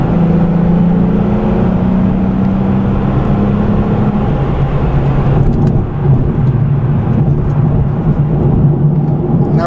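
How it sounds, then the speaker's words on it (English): A 2014 Nissan 370Z rolls over rough pavement with a constant low rumble and road roar carried through the chassis and body, steady and loud inside the cabin, with no one speaking. "I'm sure you can hear the microphone picking up all the rumbling noises coming through the chassis and the body."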